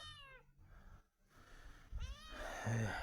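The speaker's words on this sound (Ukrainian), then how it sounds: "Можу вислати ось оцього. Самий крикливий котик." A very vocal cat meowing loudly, several drawn-out, wavering meows spaced across a few seconds, close up, with quiet room noise between calls.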